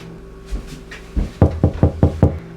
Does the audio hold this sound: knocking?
yes